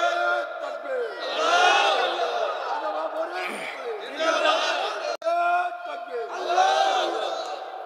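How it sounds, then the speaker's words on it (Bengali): A crowd at a Bengali Islamic religious sermon shouts the takbir, Allahu Akbar, in loud unison. Three swelling bursts of massed voices rise and fall over about eight seconds. "তাকবীর দেন একজন।"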